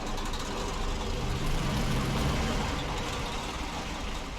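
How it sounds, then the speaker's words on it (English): A truck engine in the video game Snowrunner runs at a steady low idle, a continuous rumbling drone heard close and alone throughout. "Right, engine back on again."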